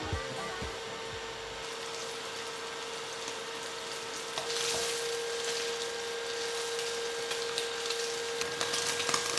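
Oil heats in a frying pan for cooking instant noodles, a steady broad sizzling hiss that grows slightly louder and busier partway through, with no voices.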